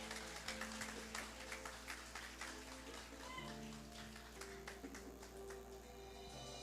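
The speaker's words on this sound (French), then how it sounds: "Applaudissez chaudement, mes amis" Congregation applauding inside a church, a steady wash of clapping over a low background hum, faint and continuous, with some talk mixed in.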